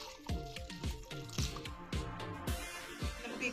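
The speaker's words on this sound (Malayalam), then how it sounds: "ഇനി ഇതിലേക്ക് വേവാൻ ആവശ്യമായ കുറച്ച് വെള്ളം ചേർത്ത് കൊടുക്കാം." Water poured into a pot of cut vegetables being cooked for Kerala-style kurukku kalan, with wet splashing and dripping that come in a string of short, uneven bursts, close and moderately loud.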